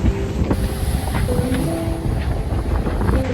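Steady wind at the Vendée Globe 2020 sailing race buffets the microphone with a low rumbling roar, a continuous gusty noise that stays fairly loud from start to finish.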